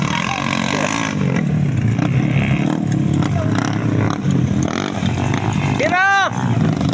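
A motorcycle engine revs hard under throttle with a loud, continuous buzzing drone, and people talk over it. A brief rising-and-falling whine sounds near the end.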